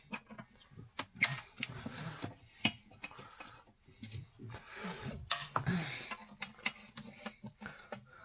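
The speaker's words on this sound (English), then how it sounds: "now I'm putting the cover back on and locking it into place to fully seal up the air filter housing" An old bus's air filter housing cover is pressed back on and locked shut, giving a scattering of faint, sharp plastic-and-metal clicks and clunks at close range in an otherwise quiet space.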